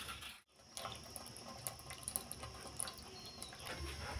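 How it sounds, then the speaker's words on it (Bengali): Boiled water drains off cooked cabbage in a kitchen, a faint steady trickle and splash with small drips and clinks after a brief pause near the start, no talking. "সমস্ত জলটা সেদ্ধ করা জলটা আমরা ঝেড়ে ফেলে দেব।"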